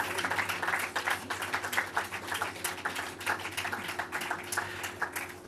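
Quiet, sustained clapping from a lecture audience after a Pasolini talk, a busy patter of many hands heard from a distance that continues evenly throughout.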